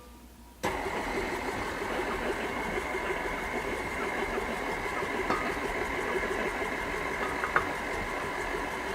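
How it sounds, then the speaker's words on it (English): KitchenAid stand mixer mixing banana bread batter, switching on abruptly and then holding a steady, close motor whir with a few faint clicks. "Now I'm using a great attachment for my KitchenAid mixer."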